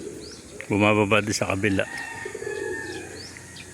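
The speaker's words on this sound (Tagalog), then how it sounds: "Ayan mga kalapati natin." Racing pigeons coo softly around their feeding area, with faint chirps from young birds in the background. Someone speaks briefly over the birds, and the low cooing continues after he stops.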